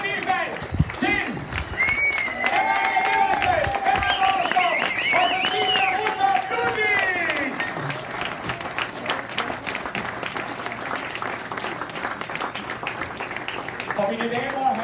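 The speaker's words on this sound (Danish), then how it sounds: "så tror jeg, vi skal have endnu et kæmpe bifald til" Crowd applause and clapping at an outdoor Danish championship award ceremony in a town hall park, loud sustained clapping from many hands while a voice speaks over it in the first half.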